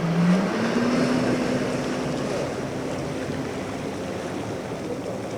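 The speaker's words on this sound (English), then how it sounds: "Australia's first electric jet ski." Australia's first electric jet ski glides across open water with no engine roar, only a steady rushing wash of water and spray heard up close. A faint tone rises and holds low beneath the hiss.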